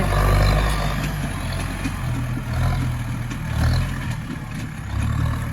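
A Massey Ferguson 4708 85-horsepower tractor engine runs close and loud, a steady low rumble with a few swells of revving as it pushes against a paddy dike in gear H3.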